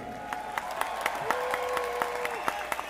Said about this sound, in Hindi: जोरदार तालियों से जोश दिखा दीजिए।